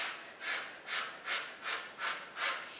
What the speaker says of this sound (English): Inhale and exhale with full force.